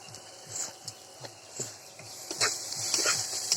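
Spiced pangas fish, coated with salt and turmeric powder, being stirred in a cooking pan: soft repeated scraping strokes with a light steady sizzle underneath, moderately close and fairly quiet, no talk.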